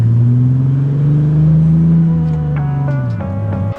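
A loud BMW E28 car engine revs steadily and continuously with a deep throaty roar, rising slightly then settling, close and dominant throughout.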